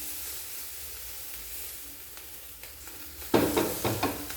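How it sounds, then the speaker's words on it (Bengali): Rice batter for chhanar chitoi pitha poured into a ghee-greased pan: a faint hiss at first, then a loud, sudden, close sizzle that bursts up and crackles on in uneven spurts. "আবার চালের ব্যাটার দিয়ে দেব"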